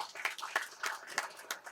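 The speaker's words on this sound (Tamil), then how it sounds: "பெரிய கைத்தட்டல் கொடுத்தே ஆகணும்" An audience at a Tamil film event claps in scattered, uneven bursts, individual claps popping out sharply over a thin patter of hands, fairly close and moderately loud.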